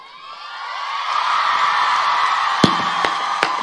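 An audience at a Hariom Pawar Hindi poetry recital claps and cheers, the noise swelling from quiet into a steady, dense roar, with a few sharp knocks near the end.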